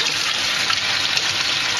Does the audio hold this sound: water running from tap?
yes